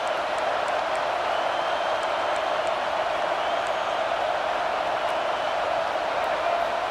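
Steady stadium crowd roar in the College Football 26 video game, a continuous, even wash of cheering voices with faint whoops on top and no breaks.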